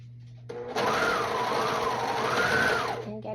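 A sewing machine stitches a T-shirt in one steady, loud, close whirring run of about two and a half seconds, its pitch rising and falling slightly as the speed changes.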